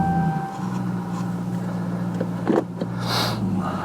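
A 2021 Ram 1500 TRX pickup truck idles in a low, steady, fairly quiet rumble heard from inside the cab, with a few faint clicks and a brief hiss near the end.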